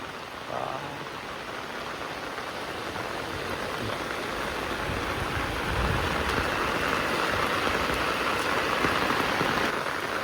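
Heavy rain pours steadily onto surfaces, a dense continuous hiss that grows slightly louder partway through.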